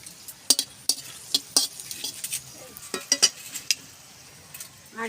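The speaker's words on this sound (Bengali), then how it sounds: "গরম হয়ে গেছে এবার আমি শুকনো লঙ্কা দেবো" Dried red chillies and mustard seeds sizzle in hot mustard oil with sharp, irregular pops and crackles up close. A few metallic utensil clinks break through the spattering.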